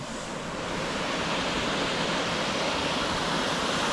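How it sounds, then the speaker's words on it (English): Posworth Gill Falls near Simon's Seat pours with a steady, even rushing roar of falling water. It is close and continuous, with no voices over it. "incredibly beautiful waterfall"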